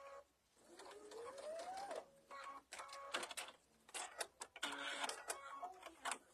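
Sewing machine stitching a fabric mug bag, running in short bursts with a rising whir and stop-start pauses, fairly close and moderately loud.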